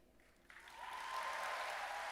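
Crowd applause at the Gamescom 2023 live show, swelling from near quiet into a steady broad wash of clapping that holds to the end.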